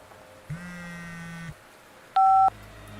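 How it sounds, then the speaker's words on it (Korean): Electronic telephone tones serve as a sound effect in a Korean horror audio story: a low sustained buzz for about a second, a pause, then a short, bright, piercing beep, all over faint background hiss. "그 순간 전화가 왔다."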